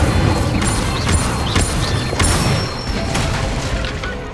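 Incendio fire spell cast in the Hogwarts Legacy video game, a dense burst of crackling, rumbling magical impacts with sharp transient pops over steady game ambience, continuous and loud with no talk.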